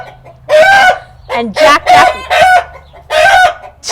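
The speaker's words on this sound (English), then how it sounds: "He is our Java rooster." A Java rooster crows loudly and close, several drawn-out calls in a row, with a short spoken phrase at the start.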